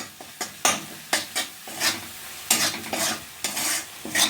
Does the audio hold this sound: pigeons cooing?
no